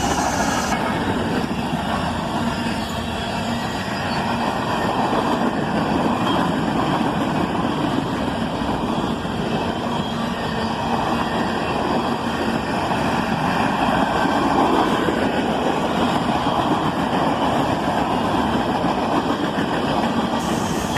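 Canadian National freight train rolling past with a cut of refrigerator cars, a steady, continuous rumble and rail rattle at fairly close range with no let-up.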